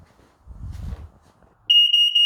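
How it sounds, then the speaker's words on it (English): A smoke alarm lets out a loud, shrill electronic beep in repeated short pulses after some faint low rumbling. "Smoke alarm is working."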